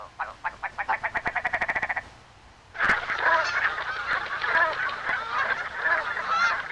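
Migrating geese arrive as the land thaws after winter, with a rapid run of rhythmic croaking calls first, then a dense chorus of overlapping honks from a flock, loud and continuous.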